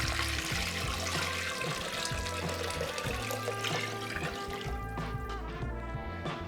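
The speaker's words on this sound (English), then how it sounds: "So we're gonna add 8 cups of our chicken broth." Eight cups of homemade chicken broth made from bouillon granules pour steadily into a soup pot, a continuous splashing gurgle lasting several seconds, close and even.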